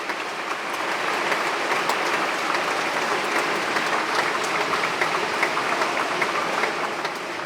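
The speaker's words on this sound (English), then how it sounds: "Jean Peters, a huge round of applause." Sustained, dense applause fills a conference hall as a speaker at the re:publica 2024 event leaves the stage, a steady loud roar of clapping with no talk over it.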